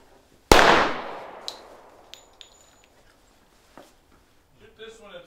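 A flintlock gun fires a blank cartridge: one loud, sharp report followed by a long fading rumble, a few faint clicks and knocks, then people begin talking.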